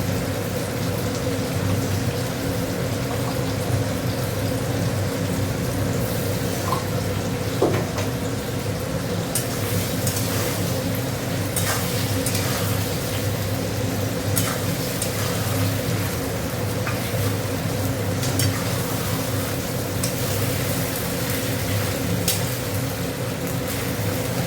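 Ginger garlic paste fries in a hot pan with a steady, close sizzle and a few faint utensil clicks, continuous and without any talk.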